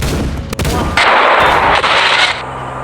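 Loud video game gunfire with sharp cracks at first, then a sustained roaring blast of shooting that cuts off near the end.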